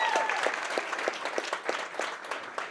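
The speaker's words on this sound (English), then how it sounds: "Big round of applause for yourselves," A comedy club audience gives a round of applause, a dense, even wash of many hands clapping at moderate loudness with no talking.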